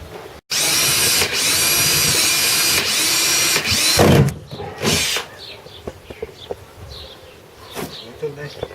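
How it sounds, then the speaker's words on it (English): A drill with a Bosch hole saw cuts holes into a Native Slayer kayak hull to fit flush-mount rod holders, whining loudly for several seconds before stopping, followed by scattered handling knocks and brief talk. "Got some Bosch hole saws that we're going to use."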